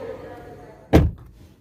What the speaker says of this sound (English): And now let's close the door.